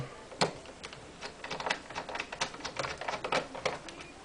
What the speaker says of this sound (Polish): Odkręcam klawiaturę.